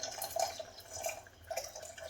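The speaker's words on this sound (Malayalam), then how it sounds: "ഇനി നമുക്ക് ഇത്തിരി പുളി ഒഴിക്കാം" Tamarind water poured into a pot of sambar, a soft liquid trickle with light dripping splashes that rise and fall over about two seconds, close and fairly quiet.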